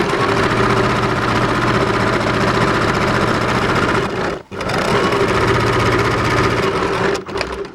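A sewing machine stitches fabric in a loud, steady motor whir with rapid needle chatter, stopping briefly twice as the seam is reversed.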